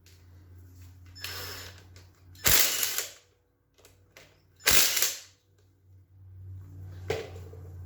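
Ratchet backing out 10mm bolts on a 4L60E automatic transmission during a pump removal, two loud bursts of rapid clicking separated by quieter mechanical handling, close, with a faint hum underneath.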